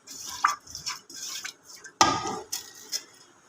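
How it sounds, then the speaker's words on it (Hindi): Beef being mixed with spices by hand in a pot, heard as close, soft squelching and stirring pulses with occasional clinks of metal against the pot, in uneven bursts with no talk. "ये चीज़ों को अच्छे तरीके से अपने हाथ के साथ इसको मिक्स करें।"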